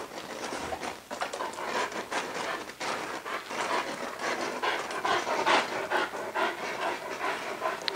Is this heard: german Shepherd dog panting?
yes